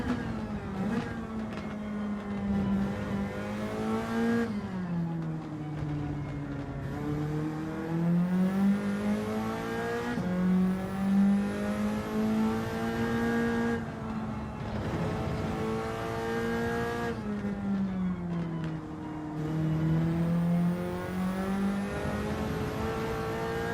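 A race car in Gran Turismo 7 driving laps, its engine droning steadily and rising and falling in pitch through gear shifts and corners, close and continuous with brief lifts, no talking.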